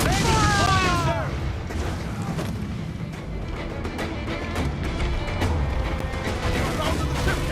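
Ship cannons boom in a naval battle in Assassin's Creed IV: Black Flag, with repeated heavy blasts and crashing impacts under shouted crew voices and constant battle noise.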